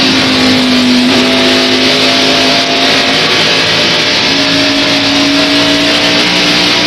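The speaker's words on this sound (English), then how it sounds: "We'll take a lap with Rusty." A 1993 NASCAR stock car runs a lap at the TranSouth 500, its engine roaring loud and steady with a sustained high drone and pitch shifts as it works through the corners, with no talk.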